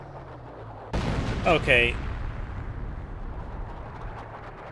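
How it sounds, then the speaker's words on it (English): Artillery barrage in the World War II strategy game Company of Heroes: a sudden heavy blast lands, followed by a quick cluster of sharp impacts, then a long rumbling tail beneath low game ambience, with a brief spoken word. "That's a little bit of suspicious barrage."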